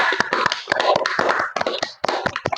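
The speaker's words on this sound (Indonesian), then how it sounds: "Mari kita berikan tepuk tangan sekali lagi untuk kita yang hebat pada pagi hari ini." Group of students clapping in a classroom, a dense burst of many hands applauding close by, continuous for a couple of seconds with a brief dip near the end.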